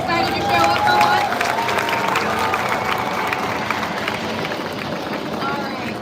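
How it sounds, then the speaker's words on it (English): A crowd at a Vietnam Veterans Day ceremony claps and cheers outdoors, with whistles and loud chatter mixed into the applause. "Can I get an applause for the Coast Guard since they decided to show up for once?"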